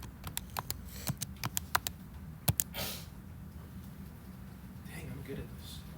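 Keys pressed on a graphing calculator while entering numbers, a quick run of light plastic clicks in uneven bursts over the first three seconds, close and moderately loud, then fading into low room hum.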